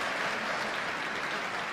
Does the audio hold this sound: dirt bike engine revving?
no